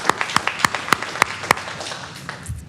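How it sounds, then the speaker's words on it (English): A district board meeting audience claps for a retiring employee, a few sparse, distinct claps spaced out over a couple of seconds and fading away, with no speech over it. "Let's give her a round of applause."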